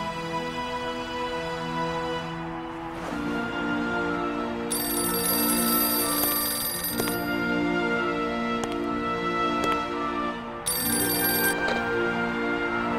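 A telephone rings in the Syberia video game, a classic bell-style ring repeating in bursts over steady game music and ambience, fairly loud and close, with no talking.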